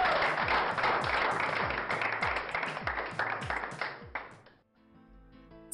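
Loud, steady audience applause greets the crowning of a pageant winner, dense clapping filling most of the stretch before tailing off, with a few voices and faint music emerging at the end.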